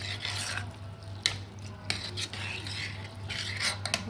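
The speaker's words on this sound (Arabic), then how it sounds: "نقلب بالراحه" Slow stirring of rice and vegetable filling for mahshi in a bowl, a steady close scraping and rubbing with a few sharper clinks over a constant low hum.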